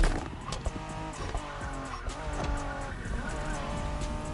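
A Honda NSX, the 1990s Japanese sports car, drives in The Crew 2 video game. Its engine drone and screeching tire skids form a continuous, dense roar.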